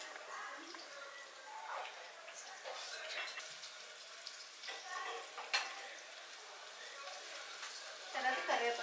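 Onions and green chilies fry in a pan with a crackling, popping sizzle that runs throughout, with sharper spits scattered across it and a voice talking over it.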